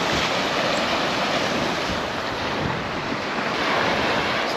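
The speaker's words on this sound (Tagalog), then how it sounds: "Lakas nga yung alon." Strong sea waves roll near an island among the Cuatro Islas off Inopacan, Leyte, heard during island hopping. A loud, continuous wash of surf blends with heavy wind buffeting the microphone, with no voices.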